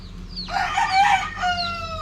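Chickens cluck and call loudly nearby, a hen making repeated clucking sounds while feeding a chick, with drawn-out tonal calls over a low background hum.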